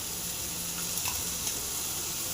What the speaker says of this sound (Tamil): இதையும் போட்டு நல்லா ஃப்ரை பண்ணுங்க